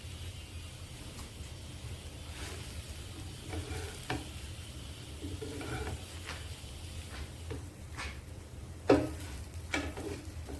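Egg and bread frying in a pan, a quiet, steady sizzle with scattered light taps and scrapes of a spatula folding the egg, a louder clack near the end.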